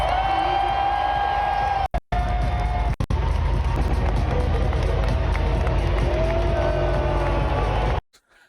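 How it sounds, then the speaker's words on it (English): A large Winter Olympics crowd cheers and whoops for American athletes, a dense continuous roar with scattered clapping and a sustained shout, briefly cut by dropouts before stopping abruptly. "people were cheering the American athletes going out on stage"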